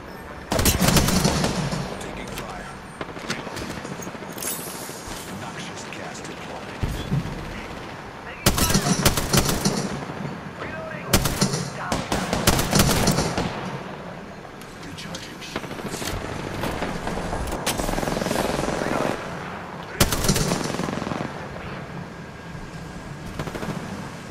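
Apex Legends gunfight with repeated sharp volleys and automatic bursts, some close and loud, others more distant, spread over the whole stretch as players call out under the shooting.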